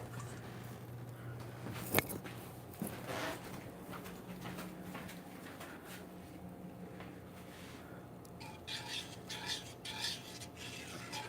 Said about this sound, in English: I think I'm gonna switch to a whisk though.